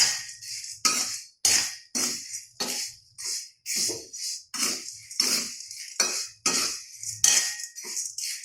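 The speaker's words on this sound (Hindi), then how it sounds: "हमारी ये सेव है, ये उसमें डाल देती हूँ। उसके बाद इसको मिक्स कर देते हैं, धीरे से ही करना है।" Sev and roasted poha chivda stirred together with a spoon in a metal pan, giving a steady series of about a dozen sharp, close scraping clinks with a rhythm of roughly one per second.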